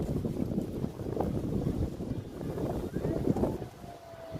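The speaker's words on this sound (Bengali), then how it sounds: "দেখেন আজকে প্রচুর বাতাস, মেঘলা আকাশ, আকাশটা একদম মেঘলা হয়ে আছে।" Strong wind gusts on an overcast day with scattered raindrops, buffeting the microphone in steady low rumbling roars that swell and ease throughout.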